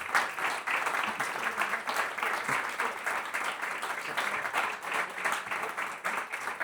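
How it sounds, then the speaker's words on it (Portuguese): An audience claps after an art lecture on Jasper Johns, a steady, dense round of applause that holds evenly throughout, moderately loud and heard from within the hall. "Poupem as vossas palmas, porque num segundo momento poderemos agradecer ao Rui esta apresentação"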